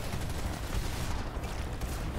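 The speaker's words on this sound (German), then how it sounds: "Da kommen Schüsse in meine Richtung." Dense, continuous gunfire from the online shooter game Planetside 2, a loud, steady wash of overlapping shots with no pauses and no talking.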